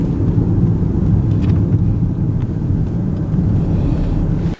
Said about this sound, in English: This car is driving so smooth.